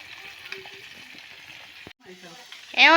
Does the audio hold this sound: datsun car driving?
no